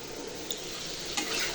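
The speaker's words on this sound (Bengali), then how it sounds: "এই মাছের ডিমগুলো এখন আর কি ভাজবো" Fish roe frying in a pan, a soft, steady sizzle with two brief scraping stirs, close and quiet, with no talking.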